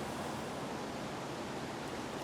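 Wind blows outdoors in a steady, broad rush of noise, fairly soft and unbroken throughout, with no voices.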